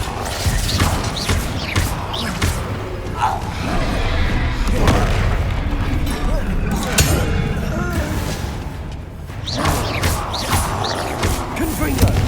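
Spell explosions in Hogwarts Legacy combat, a chaotic run of booms, crashes and clinking impacts over low rumble, with voices shouting at times amid the loud, close blasts.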